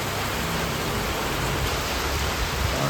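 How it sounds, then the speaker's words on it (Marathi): Heavy monsoon rain pours down at Malshej Ghat as a dense, unbroken roar of steady hiss, loud and constant with no voices. "पावसाने तर आता वगैरे लावली,"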